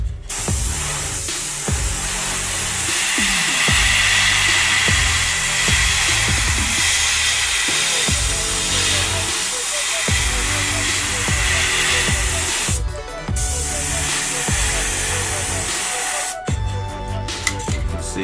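An aerosol or spray gun paints a brick wall, a steady loud hiss of spraying that runs almost without a break, with brief breaks, clicks and knocks against a busy low rumble.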